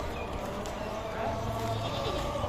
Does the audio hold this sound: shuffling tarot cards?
no